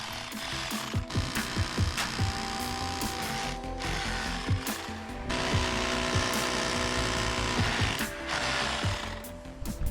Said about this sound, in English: Then I get my 6mm SDS drill bit and I drill the remaining 3 holes.